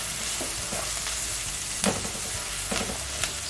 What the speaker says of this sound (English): I've finished frying the onion, I'm going to be adding the carrot to it.